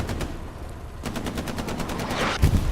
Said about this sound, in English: Artillery's landing close, man.